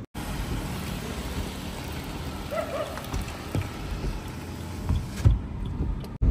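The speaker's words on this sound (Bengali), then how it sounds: "বিশাল জোরে কিন্তু বৃষ্টি পড়ছে, দেখো।" Heavy rain falls on a car parked in Kolkata, a steady, dense wash of drumming that fills the whole stretch close around the cabin with no speech.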